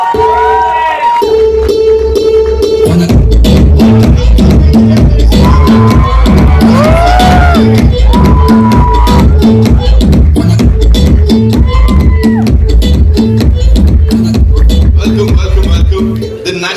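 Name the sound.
audience cheering and shouting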